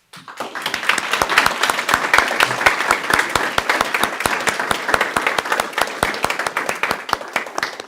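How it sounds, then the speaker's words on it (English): Parents at a Peoria Board of Education meeting are applauded by the audience, a crowd of distinct claps building quickly and holding steady, close and fairly loud, with sharp individual hand strikes standing out. "please can you stand up right now and get your applause"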